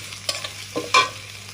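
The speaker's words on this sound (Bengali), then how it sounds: "ঝাল দিয়ে ভেজে নিচ্ছি" Chili sizzles in hot oil in a pan at the start of a bottle gourd and shrimp curry, with a steady low fry and a couple of quick spatula scrapes, close and moderately loud.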